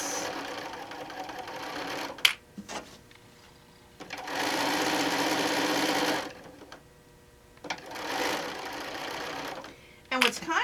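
Quilt strips are fed through a sewing machine that runs in three steady stitching bursts, each a couple of seconds long, with a person talking during the pauses between runs.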